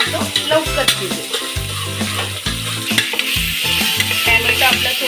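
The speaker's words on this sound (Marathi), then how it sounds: "टोमॅटोला पण चांगला परतून घेऊया।" Tomatoes and onion sauté in a pan while being stirred for khichdi, giving a close, steady sizzle with repeated scraping strokes of the spoon.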